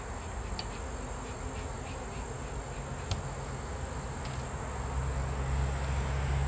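Agitated honey bees drone in a thick, steady swarm buzz during a honey harvest, growing louder and deeper toward the end as bees close in.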